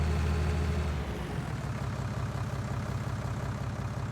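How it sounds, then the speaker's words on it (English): A tractor engine in Farming Simulator 19 running at a steady low idle, a continuous heavy drone that eases slightly after the first second, with no talking. "We'll take the tractor,"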